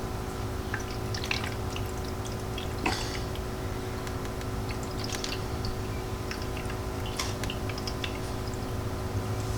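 Radiator coolant is poured into the reservoir of a Honda CBR 1000rr motorcycle, heard as a faint steady trickle with scattered small drips and splashes over a constant background hum.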